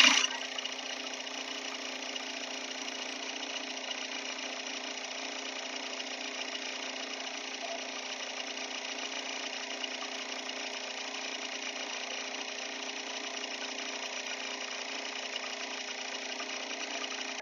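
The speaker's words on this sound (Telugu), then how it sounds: "ఇప్పుడు మనం పెట్టిన దారం అనేది బాబిన్‌కి టైట్‌గా అయితే రావటం జరుగుతుందండి." A sewing machine winds thread tightly onto its bobbin at high speed, a steady continuous mechanical whir held at even loudness throughout with no talk.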